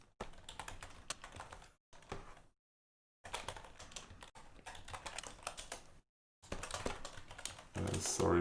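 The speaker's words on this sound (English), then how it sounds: "Sorry for the keyboard sound." Close computer keyboard typing, rapid clustered keystrokes in bursts separated by short silent gaps, with a heavier dense patch at the end.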